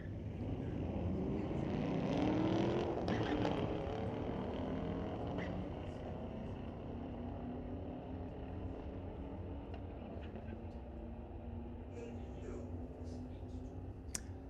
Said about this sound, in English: Here's the Camaro. Pair of them, in fact.